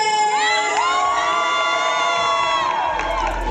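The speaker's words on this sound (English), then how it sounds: "we're going to make some noise for GSU because they're coming up first" A crowd of college students at an Atlanta event cheers and shouts together in a sustained, loud roar of high-pitched whoops and yells that fades near the end.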